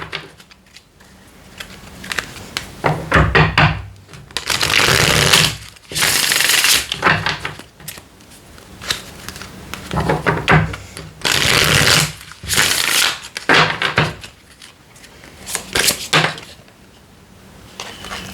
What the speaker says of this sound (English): something tells me to shuffle again.